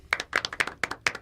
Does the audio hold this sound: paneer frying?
no